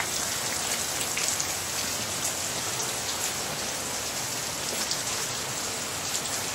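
Steady, dense downpour of heavy rain hissing and pattering on surfaces, constant and close with no voices.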